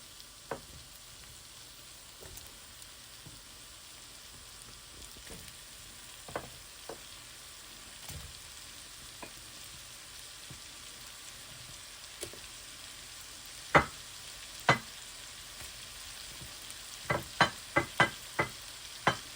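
Sausage frying in a pan gives a steady, quiet sizzle with scattered sharp pops and crackles that grow more frequent toward the end.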